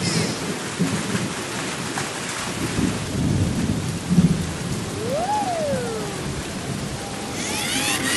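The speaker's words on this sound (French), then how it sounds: "Il commence à pleuvoir." Steady rain hisses throughout while low thunder rumbles underneath, with a brief whistling tone sweeping up and down partway through.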